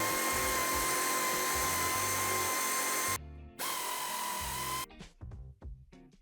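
Power tool spinning off nuts on a Mercedes-Benz E-Class W213 sedan diesel, a close, loud, steady high whine lasting about three seconds, a brief stop, then another whirring run that trails into clicks and rattles.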